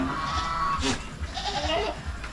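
A goat on a Philippine farm bleats loudly and close, a short wavering cry over a busy, noisy outdoor background.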